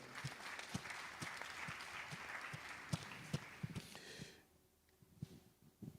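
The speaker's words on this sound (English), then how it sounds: "I think they deserve a round of applause from all of us here" Audience at the Merck Foundation First Ladies Initiative Summit gives a round of applause, scattered clapping with sharp individual claps over a steady patter, fading away toward the end.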